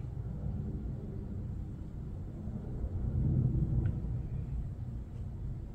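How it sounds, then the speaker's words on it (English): Steady low rumble of an airplane passing overhead, distant and faint, swelling slightly midway and then easing. "There's an airplane going overhead, so I apologize for the noise."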